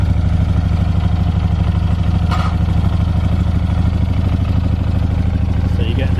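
Moto Guzzi V11 Le Mans motorcycle engine idling with a big-twin, loud, even, throbbing pulse close by, steady throughout with a brief sharp click partway through.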